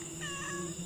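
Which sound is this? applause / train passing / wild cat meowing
wild cat meowing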